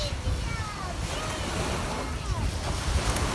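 Surf washing onto a beach at sunset, a steady broad wash of waves with wind rumbling across the microphone, continuous and fairly close, with no talk over it.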